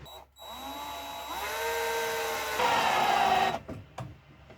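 Power drill whirring in sustained bursts as it drives screws into a wooden beehive super, the motor pitch climbing and straining near the end before stopping, close and fairly loud.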